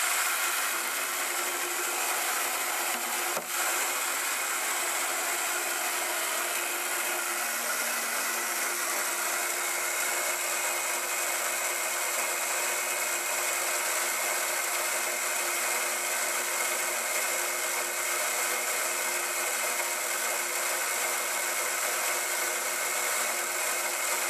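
A blender runs continuously, whipping a creamy vegan lemon-garlic Caesar dressing: a loud, steady motor whir and grinding hum holds level throughout, with no speech over it.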